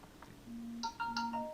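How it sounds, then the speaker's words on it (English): A phone ringtone repeats a short electronic melody of sustained tones several times in quick succession, fairly quiet over a faint background hum. "Damn, my phone's going off a lot."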